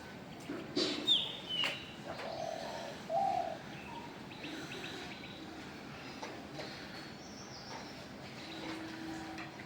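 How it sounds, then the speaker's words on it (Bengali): Bird calling in a village in the early morning, a few short cooing and chirping notes in the first few seconds, then quieter calls over steady outdoor background hiss. "এই যে দেখেন একটা পাখি কোথায় বসে ডাকতেছে"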